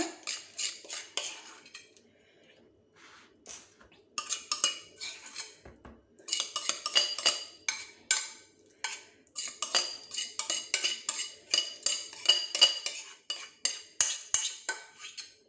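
A spoon scrapes and clinks against a bowl while finishing a vegetable cake batter, in irregular bursts of close, bright scraping strokes separated by brief pauses.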